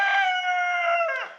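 A rooster, one of several Black Copper Marans and true blue roosters, gives a single long crow, close and loud, trailing off at the end with no talk.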